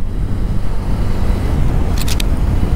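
A vehicle engine roars at full throttle on a coastal road in Konkan, a steady loud drone with heavy wind buffeting, recorded up close and continuous throughout.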